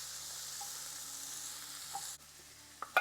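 Spring onion whites fry over medium heat in a pan, a steady soft sizzle that quiets partway through, followed by a couple of brief stirring scrapes and clinks.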